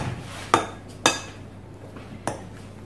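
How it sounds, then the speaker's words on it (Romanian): A saucepan of milk lifted out and set down in a home kitchen while baking a caramel cake, giving three sharp metallic clanks of pot against a surface at about one-second intervals, close by, with no talk. "Acum poți să scoți afară oala, cratița cu laptele."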